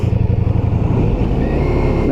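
A 2023 Ducati Diavel V4 motorcycle accelerates hard, its engine pulsing rapidly then settling into a smooth, rising roar close up, with wind noise and a rider's voice talking over it.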